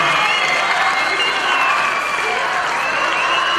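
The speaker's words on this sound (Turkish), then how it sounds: "Bir kez daha onları alkışlayalım." An audience at a Diyarbakır stage performance gives loud, sustained applause with scattered cheers for young child performers, a dense crowd clapping throughout with voices mixed in.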